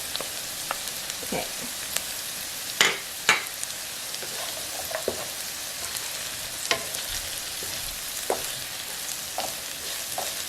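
Garlic frying in a pan for kimchi fried rice, a steady close sizzle with occasional clinks and scrapes of stirring; a voice speaks briefly.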